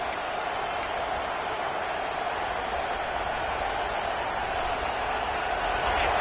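Steady roar of a stadium crowd in a Madden football video game, a dense wall of constant noise with no breaks, loud and unbroken with no speech.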